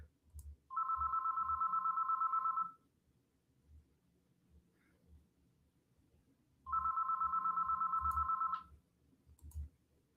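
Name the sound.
telephone ringing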